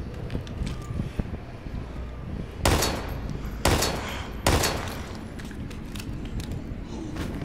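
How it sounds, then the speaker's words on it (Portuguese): Three loud gunshots in the survival horror video game Daymare 1998, sharp blasts spaced about a second apart, each with a short decaying tail over low ambient game noise. "Olha, mano, três tiros, cara."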